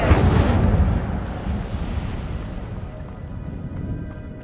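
An Incendio fire spell bursts in Hogwarts Legacy, a loud whooshing blast at the start that rolls into a fading roar and crackle, with no voices.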